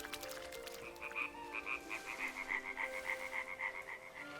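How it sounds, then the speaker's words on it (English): Frogs croak in the video game Clanfolk, a steady run of rhythmic, evenly spaced croaks at moderate volume over faint ambient game music. "I love the sound of the frogs."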